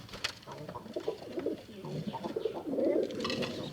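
Bombay pigeons coo in low, repeated throaty phrases close by, with a steady soft murmur running through the whole stretch and the cooing swelling near the end.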